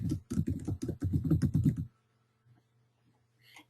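Speech fills the first couple of seconds, then a few faint, scattered clicks follow at a distance over quiet hum, as if keys on a computer keyboard are tapped while an email address is entered.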